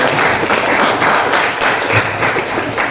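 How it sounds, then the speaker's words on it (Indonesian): Steady applause and clapping from a classroom audience during an Islamic studies lecture, dense and sustained at close range for the whole stretch with no talking over it. "kasih aplaus"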